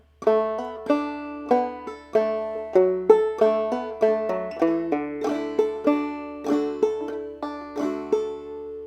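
A clawhammer banjo plays a passage of Briarpicker Brown, a steady run of crisp plucked notes with ringing strings, close and solo without any voices.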